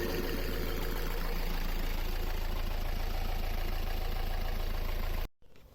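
A narrowboat engine revs steadily at around 2,500 RPM during testing on a boat with a breakdown, a loud, constant mechanical drone that cuts off abruptly near the end.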